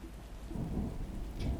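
Thunderstorm ambience in the video game HELP! My Teacher is a Monster!, with steady rain and low rumbling thunder that swells toward the end, loud and continuous with no voices.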